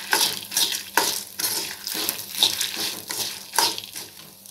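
Pirandai, or adamant creeper, dry roasting in a pan, with repeated scraping stirs landing about once a second over a steady crackle. Heard close up, with no talking.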